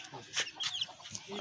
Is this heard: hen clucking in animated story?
yes